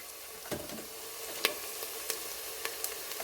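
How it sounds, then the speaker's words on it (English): Onions fry in a pan for a black chickpea curry, giving a steady close sizzle with a few sharp crackles and spatters scattered through it. No voices are heard. "my onions have been cooking for a few seconds, so I'll just show you in the pan to show you what they look like"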